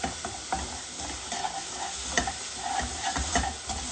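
Raw mango cooking with sugar in a pan as it starts to caramelize, giving a steady close sizzle with repeated scraping stirs and small clinks, no voices.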